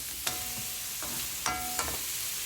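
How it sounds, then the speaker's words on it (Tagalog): Pork sautéing in a pan with garlic for pork afritada, with a steady low sizzle under a few sharp clanks of a utensil stirring and scraping against the pan. "Ilagay mo na yung pork. Pwede chicken. Sangkotsahin mo lang yan."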